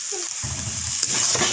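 Taro leaves cooked with a hilsa fish head are stirred in a pan, a brief close scraping and soft sizzling with a steady hiss underneath.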